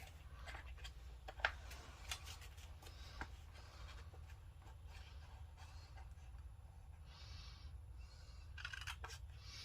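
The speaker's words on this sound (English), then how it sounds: "I have to trim this end just a little bit" Scissors trim the end of a paper craft piece in a few faint, brief snips, quiet and close against a low steady background hum, with no talking.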